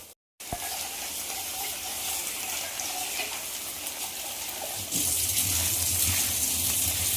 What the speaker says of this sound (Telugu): బెండకాయలు ఇంకా కొంచెం వేగాలి